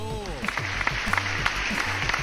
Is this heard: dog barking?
no